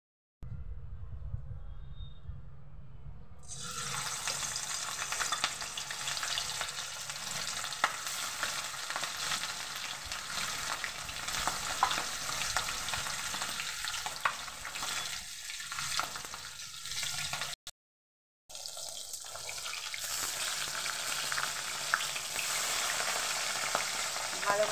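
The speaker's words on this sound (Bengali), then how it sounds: "মাছের মাথাটা ভাজবো বলে তেলটা এতটা দিয়েছি।" Oil heating in a pan for frying a large fish head sizzles steadily and loudly throughout, a dense crackling hiss that breaks off briefly near the end before resuming, with no talk over it.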